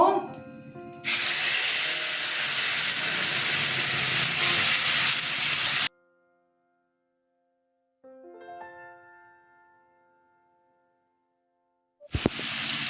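Spices tipped into a hot pan with cumin and fennel tempering sizzle loudly for several seconds, cut off abruptly; after a pause a fainter, briefer sizzle rises and fades, then another loud burst starts at the end, while cooking papaya-potato dalna.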